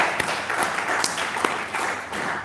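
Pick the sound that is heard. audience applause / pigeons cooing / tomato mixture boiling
audience applause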